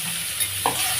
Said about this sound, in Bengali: পেঁয়াজটা ভাজতে থাকলাম, এই মশলাটা ভাজতে।